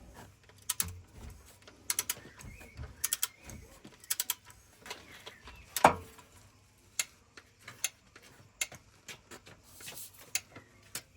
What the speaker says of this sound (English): I've got 27 on my torque wrench, so should be alright.